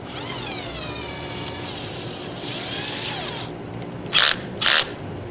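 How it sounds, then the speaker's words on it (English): Power drill with its biggest bit boring holes in solar lights, a steady whining motor with rising and falling pitch, followed by two short loud bursts near the end. "drill some holes"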